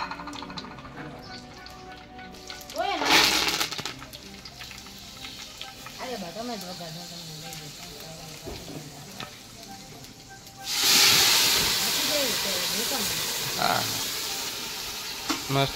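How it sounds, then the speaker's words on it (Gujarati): A vegetable tempering of onion sizzles in hot oil in a home kitchen. The sizzle is steady under people talking, with stirring noises, then turns suddenly loud and hissing near the end as more goes into the pan. "શાકનો વઘાર લાગી ગયો."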